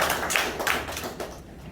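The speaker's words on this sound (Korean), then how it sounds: "김명수 원장님 다시 한번 큰 박수로 감사의 박수 부탁드리겠습니다" An audience at a forum lecture claps briefly in thanks to the speaker, a short spatter of hand claps that thins out and fades within a couple of seconds.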